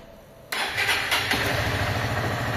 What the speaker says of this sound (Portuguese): Perfeita a moto na marcha lenta